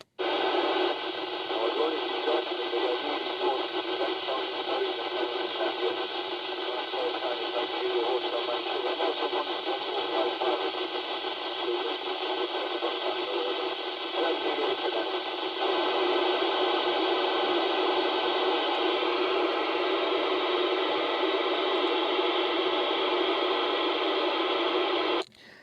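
A weak, noisy 4-metre band radio transmission received on a Motorola GM350, steady hiss-laden signal with a faint, barely readable voice buried in the noise for about twenty-five seconds before cutting off abruptly.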